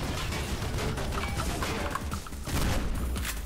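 Dense, sustained machine gun fire from the first-person parkour game Mirror's Edge: loud, continuous rattling bursts with booming impacts throughout, no voices.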